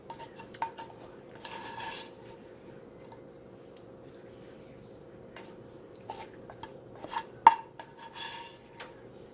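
Cooked onions being spooned onto a stromboli with kitchen utensils, heard as sparse metallic clinks and light scrapes against a dish, close but fairly quiet, with long near-silent gaps between the taps.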